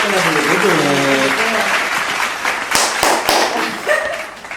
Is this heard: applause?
yes